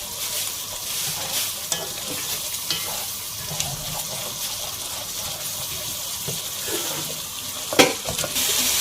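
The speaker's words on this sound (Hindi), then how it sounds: "टमाटर डाल के हमें इसे अच्छे से भूनना है।" Tomatoes fry and get stirred in a pan for Afghani chicken karahi, a steady broadband sizzle broken by scraping stir strokes and a sharper clatter near the end.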